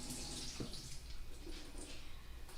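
Water from a tap runs in a quick rinse of a 16-ounce container, a soft, continuous splashing hiss heard up close and alone.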